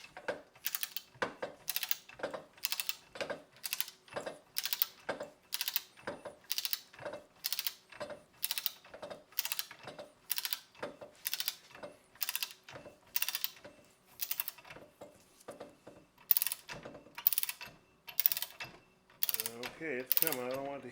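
A ratchet wrench working loose a rear wheel bearing nut on a car during a brake job, giving a long run of evenly spaced, close clicking strokes with brief pauses and a slight rattle near the end.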